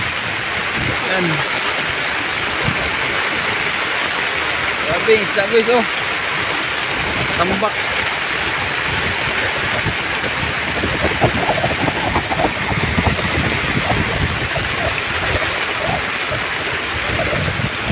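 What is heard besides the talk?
heavy rain at sea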